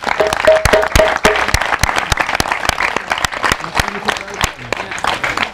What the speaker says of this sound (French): je demande des applaudissements à son égard